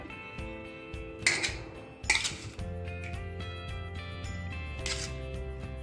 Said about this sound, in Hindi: इसी तरह एक चम्मच की सहायता से अजवाइन को आंवले में मिक्स कर देते हैं।